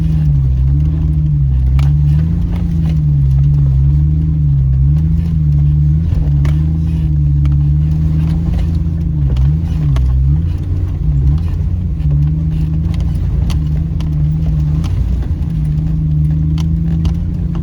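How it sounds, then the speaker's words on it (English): An off-road vehicle crawls along a trail in first gear low range, its engine holding a steady low drone close to the mic, with slight rises and dips in pitch as it cruises. "Basically, first gear low range, just nice little cruise."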